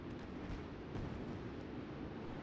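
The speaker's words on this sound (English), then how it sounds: "Fireworks display going off." A fireworks display at a motorsport event sends out a dense, continuous roar of rumbling blasts and crackle, loud and steady, with no distinct single bangs and no talking.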